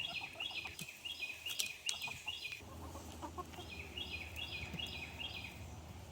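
A flock of backyard chickens, including a naked-neck hen and two young birds, clucks and chatters continuously in repeated bursts, moderately near with a steady outdoor background.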